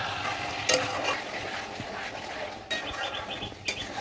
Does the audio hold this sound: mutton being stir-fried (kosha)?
yes